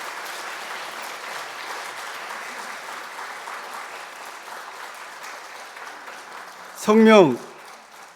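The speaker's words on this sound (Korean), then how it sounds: "수료증과 선물을 드릴 때 박수로 축하해 주시기 바랍니다" A church congregation at a Yongin Yeongnak Church Sunday service applauds a member completing the church family education course, with steady dense clapping throughout and a short voice breaking in near the end.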